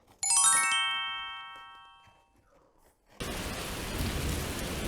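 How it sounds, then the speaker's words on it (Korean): A bright chime rings and fades, followed by a pause. A dense, steady hiss of heavy rain then starts and carries on to the end as part of a storm sound effect. "아버지, 비가 와요."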